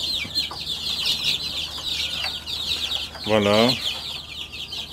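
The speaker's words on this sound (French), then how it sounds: "des petites poules" Small hens on a family livestock farm in Gaza give a short, close cluck over steady high chirping from other poultry, with a person speaking briefly nearby.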